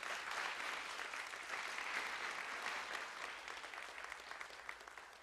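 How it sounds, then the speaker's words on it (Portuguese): A congregation at a celebration church service gives sustained applause, a steady, fairly distant wash of clapping with no voices over it. "Vamos aplaudir o Senhor pela vida dela"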